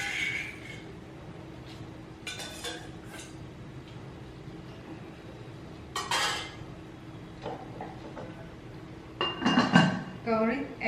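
Chunks of pork being placed into a metal cooking vessel for Ao Naga smoked pork with spring onions, with several scattered clanks and scraping clatters against the pot, the loudest cluster near the end.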